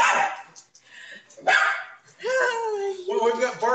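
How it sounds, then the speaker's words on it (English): A dog barks and yips several times close by, with sharp bursts followed by a longer whining bark. "we've got barking"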